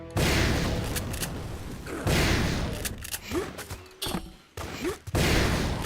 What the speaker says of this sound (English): I like how they give you the flame shotgun here that'll just miss them.